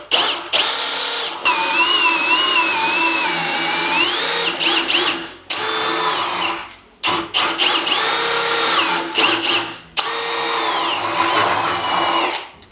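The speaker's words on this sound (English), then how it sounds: "the auger bits have got a screw bit at the top, which kind of just pulls the auger into the oak door" A power drill with an auger bit grinds steadily into a hard oak door, boring the latch hole, its pitch wavering as it bites, with several short pauses before it starts boring again.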